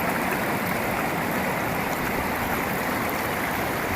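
Water sloshes and rushes continuously as gravel is washed in a gold pan, a dense steady wash with no pauses, loud and close.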